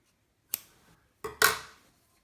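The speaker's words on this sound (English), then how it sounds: "so I'm just going to get my scissors in here" Scissors close by make two crisp snips cutting open felted soap, the second a quick double cut, with quiet between them.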